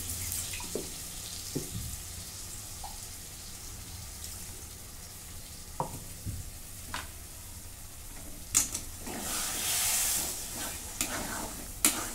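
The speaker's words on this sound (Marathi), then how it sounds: "आता इथं मसाला चांगला परतून घेतलाय." Masala for an egg curry is sautéed and stirred in a pan, a low hiss of frying with scattered scraping stirs and knocks that grow busier toward the end, close by and without talk.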